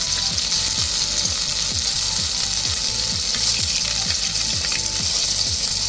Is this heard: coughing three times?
no